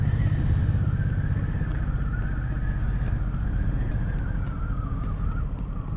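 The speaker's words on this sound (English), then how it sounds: "Again, I do apologise for any wind noise that's coming through the helmet." Buffeting wind roars through a motorcycle helmet while riding, a loud continuous rush mixed with engine drone and a steady whine throughout, no talk.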